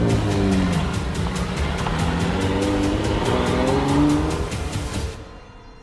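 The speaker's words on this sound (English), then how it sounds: "The two cars accelerate down parallel tracks." Two drift race cars accelerate side by side down parallel tracks at a drifting competition, engines revving hard with rising pitch as tires squeal loudly, the roar fading out abruptly at the end.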